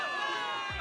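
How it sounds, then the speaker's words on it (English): Soldiers in the Zenless Zone Zero game shout and cheer for victory as a dense crowd roar, loud and continuous over a short stretch with many overlapping voices. "Give it up for yourselves, soldiers! Cheer for victory!"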